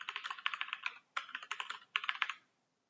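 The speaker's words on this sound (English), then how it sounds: "Type a password." Typing on a computer keyboard while entering a password during certificate setup on Windows: three quick bursts of crisp, close key clicks separated by short pauses, with no talking.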